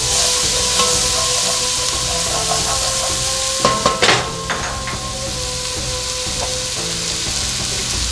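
Onion sautéing in a pan for harira soup, a steady close sizzle with scraping stirs and a few sharp utensil knocks on the pan in the middle, no talk.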